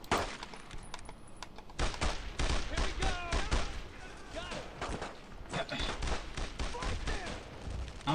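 Rapid bursts of rifle and machine-gun fire crack through a World War II shooter, Brothers in Arms: Road to Hill 30, in close, irregular volleys lasting several seconds.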